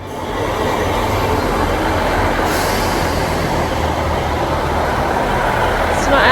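A train rumbles past steadily, a loud continuous roar of wheels on rails with a faint squeal toward the end.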